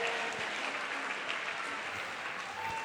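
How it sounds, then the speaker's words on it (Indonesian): A campus audience at a talk applauds the speaker, a dense, steady wash of clapping lasting a few seconds with no pauses. "Tepuk tangan untuk saya."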